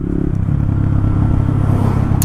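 A Honda Grom motorcycle runs under a rider with a loud, close, steady engine drone that holds without a break.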